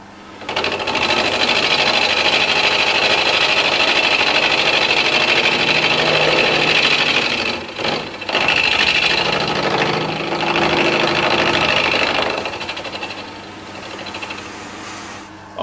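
Machining a cast iron part held by a small toe clamp on a machine tool, a steady loud whirring cut running continuously with a brief dip midway, easing slightly toward the end.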